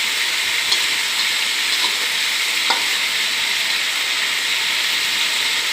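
Chicken frying in hot oil in a wok, a steady broad sizzle with a couple of faint clinks from stirring, continuous and close throughout.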